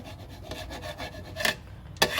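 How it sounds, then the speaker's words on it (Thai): A metal utensil scrapes repeatedly across a wok in rough, rasping strokes, with a couple of sharper scrapes standing out. "ไม่ใช่การโยกนะครับ เป็นการขูดกระทะ"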